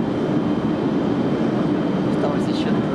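Steady, dense engine drone inside an airliner cabin on a long-haul flight to Sal in the Cape Verde Islands, a continuous low roar that fills the whole clip with no breaks.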